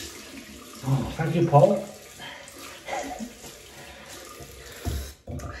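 Cold tap water runs into a sink for a rinse during a wet shave, a steady close splashing flow that surges and eases while someone speaks briefly over it.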